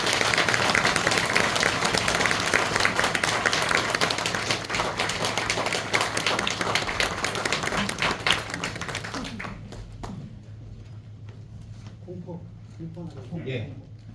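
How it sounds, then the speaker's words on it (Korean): Congregation applauding at a pastor's installation service in a Korean church, a dense wash of clapping that fills the hall, then breaks off abruptly as a voice begins speaking. "박수로 축하해 주시기 바랍니다."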